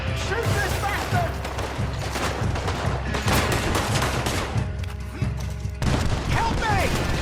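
Gunfire in Red Dead Redemption 2 erupts in a dense, continuous volley of shots and crashes, with loud cracks layered under shouting voices throughout.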